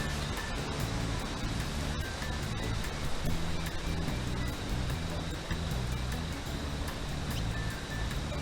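Water from a pan of cooked spaghetti pours through a strainer in a home kitchen, a steady, dense splashing rush that continues without break at moderate level.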